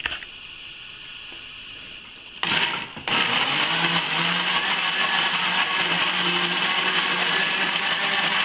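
Kitchen blender whirring through chicken liver stuffing with a spoonful of cream, starting abruptly after a quiet moment, briefly stopping, then running steadily and loudly to the end.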